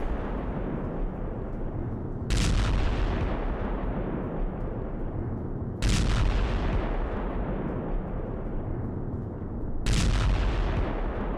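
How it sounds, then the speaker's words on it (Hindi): Three heavy tank cannon blasts boom across a battlefield in war footage, each a sharp loud crack with a long rumbling decay, spaced a few seconds apart. "रूसी इन्फेंट्री को टारगेट कर टैंक से हमले किए गए हैं"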